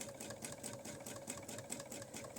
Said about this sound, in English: So you just carry on sewing, and the more you sew round and the more you bend it up, the taller, or the deeper should I say, the bowl will be